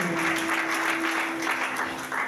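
Church congregation applauding during a French-language sermon, a steady wash of clapping throughout with a faint sustained tone underneath.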